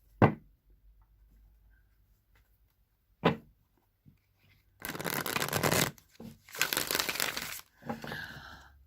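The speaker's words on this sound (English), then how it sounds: "I'm going to shuffle the Crow deck 3 times, cut the deck, and draw 3 cards" A tarot deck, the Crow deck, is shuffled by hand, with a couple of sharp taps on the cards and then two longer riffling bursts of card shuffling up close. The room is otherwise quiet.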